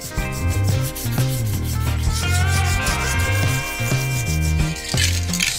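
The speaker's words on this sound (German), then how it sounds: "und dann nachher drüber schleifen." A part of a Sachs moped is sanded by hand, with steady rubbing strokes, loud and close, running continuously under background music and no speech.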